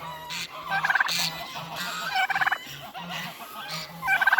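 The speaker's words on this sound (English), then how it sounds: "Got some turkeys here." Farm turkeys gobble in repeated rapid bursts, fairly close and loud, several calls overlapping with short pauses between them and no talk.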